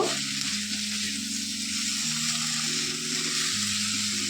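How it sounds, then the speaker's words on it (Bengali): Spices sizzle and crackle steadily in oil in a pan, a continuous frying hiss close by with no talking. "মশলাগুলো একটু কষিয়ে নেব"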